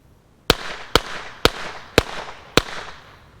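Five sharp, loud shots from a Hopkins & Allen Bulldog revolver over 100 years old, fired in quick succession about half a second apart, each a crisp crack with a short ringing tail.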